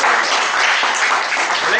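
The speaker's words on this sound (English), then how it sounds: "So let's give a round of applause." An audience at a general evaluation session claps in a round of applause, a dense, steady patter of many hands that carries on without a break for nearly two seconds.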